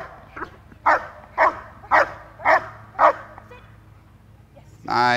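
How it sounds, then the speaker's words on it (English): A protection-trained dog barks five times on command in a steady rhythm, loud and close, followed by a short pause and a final vocal sound. "She asked him to do repetitive barking and then shut it down"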